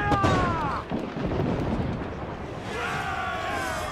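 Ship cannons fire in Assassin's Creed 4 Black Flag, heavy booming blasts rolling into a rumbling roar, loud and near, with brief tonal shouts or whistles at the start and end.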